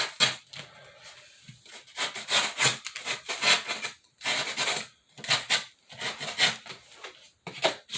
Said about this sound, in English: I'm just going to trim off the corners here so that it don't look so square